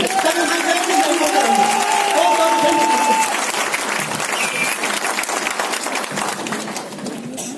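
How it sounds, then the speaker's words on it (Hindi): Loud audience applause fills a business training hall, a dense sustained wash of clapping with some voices mixed in, steady throughout and easing slightly toward the end. "आपकी जोरदार तालियों में उनको माइक देना चाहता हूँ। तालियों इतनी खतरनाक होनी चाहिए।"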